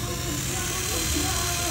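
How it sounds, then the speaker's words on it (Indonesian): A ProQuip QM63LI cordless drill runs continuously, giving a steady electric motor whine that stays at an even, fairly loud level with no pauses. "Seperti ini bunyi dari mesin bor"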